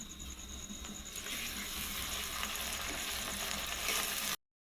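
Ginger and garlic paste frying in a pan, a dense, steady crackling sizzle with light stirring that grows slightly louder before stopping abruptly, close and unaccompanied by speech.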